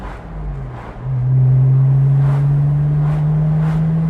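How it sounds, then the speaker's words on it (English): Steady exhaust drone from a 2004 Porsche Boxster 986 under way, the engine note climbing in pitch over the first second and then holding loud and close, with no voices. "That sound, that exhaust note is absolutely phenomenal."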